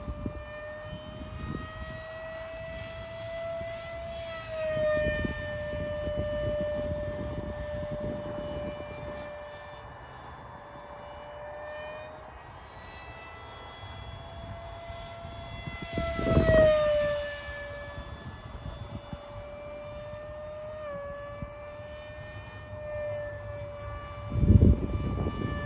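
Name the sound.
Banana Hobby A-4 Skyhawk 50mm RC jet flying overhead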